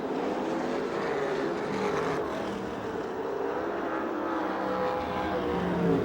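USAC/CRA sprint cars race at Perris, California, in a 50-lap feature, their engines blaring in a loud, continuous roar that swells and sustains throughout, with no talk over it.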